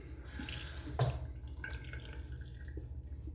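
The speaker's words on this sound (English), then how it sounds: "Gonna have to add a little water to this." Tap water runs and splashes into a sink or bowl while water is added to Cella shaving cream for a straight razor shave, a steady close trickle with a brief drip.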